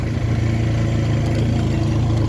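A vehicle engine drones steadily and loudly under strain as it climbs a steep hill road, with a constant low rumble and no breaks or voices.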